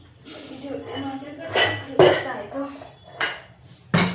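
A heavy object is set onto a lidded pot of steaming rava dhokla (idli) batter. Several loud metallic clanks and clinks of cookware ring out between quieter handling noises.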